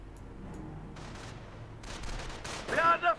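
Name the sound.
gunfire in the video game Company of Heroes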